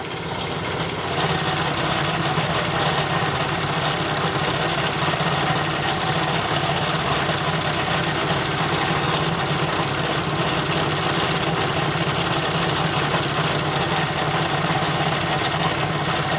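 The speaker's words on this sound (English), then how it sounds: "So the engine uses a lot of steam." Wilesco D32 toy steam engine running steadily at close range, a continuous even mechanical whirr and chuffing hum with no pauses, loud and unaccompanied by talk.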